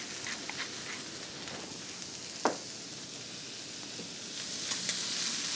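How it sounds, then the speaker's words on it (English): A bone-in pork roast sears fat side down in a hot pan, giving a steady, close sizzle with one brief clink or tap partway through. "searing in those nice juices"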